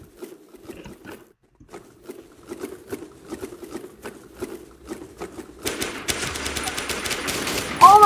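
Rapid automatic gunfire in the shooter game Warmode, a dense rattling burst building over the last few seconds after scattered softer clicks and taps, with the volume rising toward the end.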